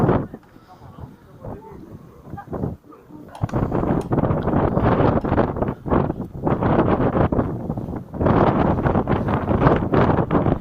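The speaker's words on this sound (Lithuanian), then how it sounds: "O jau vėjas šiandien." Strong wind buffets the microphone in loud, gusty bursts in Croatia, with brief quieter lulls between gusts.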